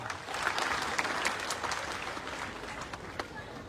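A crowd claps in a steady burst of applause, fairly faint, with a voice mixed in.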